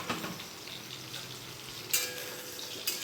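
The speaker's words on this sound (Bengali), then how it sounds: "এই যে ডিমের ঝোলের জন্য আলুটা ভেজে নিচ্ছি।" Potato pieces fry in hot oil for an egg curry, a steady close sizzle with a couple of sharp stirring clinks against the pan and no talking.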